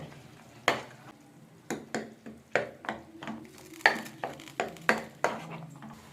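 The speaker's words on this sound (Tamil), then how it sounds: "இப்போ நம்ம கிண்டிக்கலாம்" A spoon scrapes and knocks around a pot of chicken curry with yogurt in a series of sharp, irregular strokes, close by, with a soft sizzle between them.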